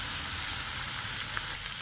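Radish curry (mooli ki sabzi) stirred as it fries in a pan, a steady, close sizzle with a faint scraping of the spoon running throughout, no talking.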